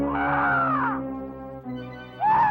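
A bird in a 1983 Disney cartoon gives two harsh, exaggerated caws, the first drawn out and the second short at the end, over a steady musical drone.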